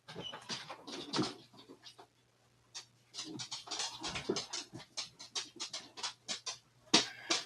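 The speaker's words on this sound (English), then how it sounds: "when I hear the ticking, it makes me think I should trim his toenails" A dog's toenails tick on a hard floor indoors, a scattered run of quick, light clicks and scrapes with a short pause partway through.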